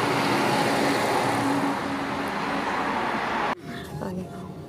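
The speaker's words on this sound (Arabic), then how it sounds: "فهلأ أنا راكب السيارة رايحة على المكان" The inside of a moving car carries a steady low road rumble and broadband engine and tire roar. The noise cuts off abruptly near the end, leaving quieter background sound with faint voices.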